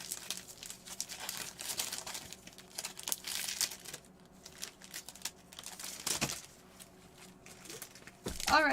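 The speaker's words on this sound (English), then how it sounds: "let me get these packs shuffled up real quick." Close-up crinkling and rustling of plastic-wrapped Pokémon and Magic: The Gathering card packs being shuffled by hand, irregular and fairly quiet, without speech.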